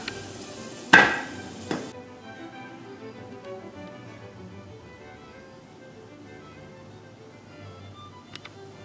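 Steak frying in a pan as the lid goes on with a sharp clank and a second knock, then a subdued, muffled sizzle continuing steadily under the cover.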